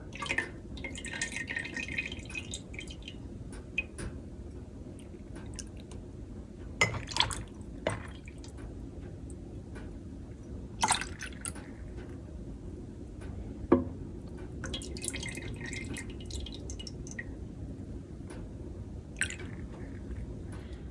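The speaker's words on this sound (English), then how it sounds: "I heated my jars in the oven, and I'm filling them with the hot tallow" Hot tallow is poured into oven-heated glass jars, heard as faint, close liquid trickles, wet drips and occasional light clinks of glass over a quiet background hum.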